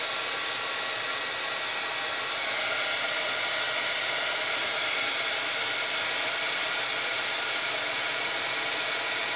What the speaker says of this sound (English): now we will heat set these